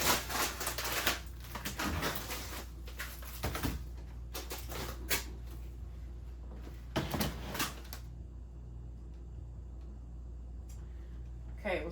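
Items in an upright freezer clatter and shift in bursts of knocking and rattling, irregular and close, with quieter gaps between.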